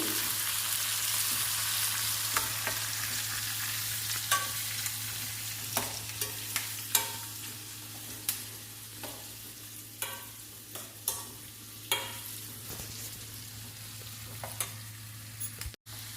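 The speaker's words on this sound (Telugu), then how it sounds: "పసుపు వేసుకుందాము వేయించుకుందాము ఇవన్నీ" Turmeric and spices frying in a pan sizzle under a constant low hum, broken by a long run of spaced spoon scrapes and clinks against the pan, with no talking.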